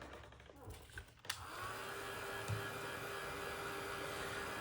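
A heat tool blows hot air over decoupage letters on a notebook, a steady loud fan whoosh that starts after a few handling noises and runs on evenly.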